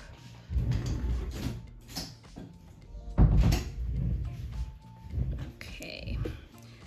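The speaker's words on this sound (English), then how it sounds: "Just close the door real quick." A room door swings shut during a 3D gel nail art session, giving one firm thud midway through amid soft shuffling and handling noises, with faint voices in the background.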